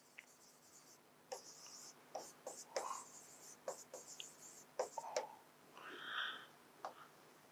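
Handwriting on paper or a board while working through a definite integration problem: faint, close scratchy pen strokes coming in short irregular bursts over a quiet room.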